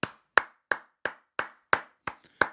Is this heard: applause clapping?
yes